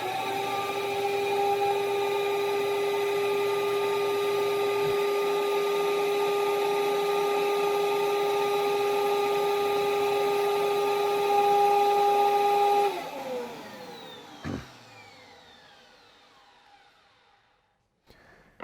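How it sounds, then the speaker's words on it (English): A Record Doctor VI vacuum record cleaning machine runs loud and steady with a constant motor whine and airflow hiss, then switches off and spins down, trailing into near silence. "Now this part gets pretty loud, so I'm going to turn it on"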